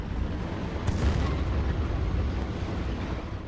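A tank cannon blast in the World War II video game Battlefield 1942, a deep rumbling boom with a long low roll that fills the short stretch, fairly loud and alone without talk.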